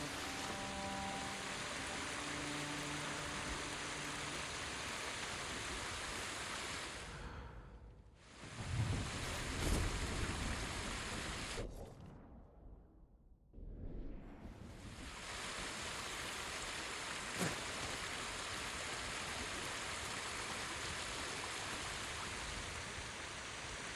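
A waterfall in the video game Ghost of Tsushima gives a steady, full rushing roar. It drops out briefly twice, then returns at the same constant level, with no voices.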